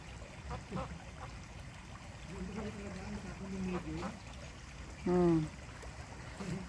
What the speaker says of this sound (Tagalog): Yung mga gansa, ayun din. Daming gansa.